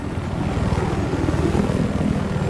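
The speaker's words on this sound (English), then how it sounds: "This is my first time using the helicopter." A helicopter in the video game Battlefield Hardline gives a steady, loud rotor and engine drone with rapid blade chop throughout a short stretch, without speech.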